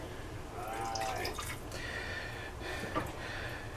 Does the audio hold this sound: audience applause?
no